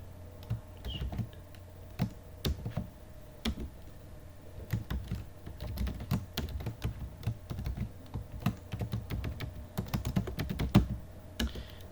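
Close, steady typing of Python code on a computer keyboard: rapid clattering keystrokes in uneven bursts with occasional louder key hits, no talking.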